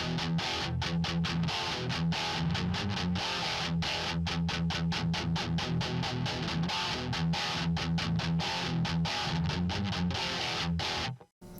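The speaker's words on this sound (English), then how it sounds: "That metal distortion." Loud, dense metal-distortion electric guitar through a Line 6 Spider Valve MkII amp, chugging in tight palm-muted bursts with short stops, heavy and fizzy, playing continuously before cutting off at the end.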